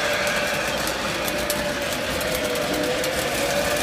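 Western Maryland model train set in a Christmas attic layout running: a steady high whirring motor hum with a faint constant tone, close by and unbroken for the whole stretch.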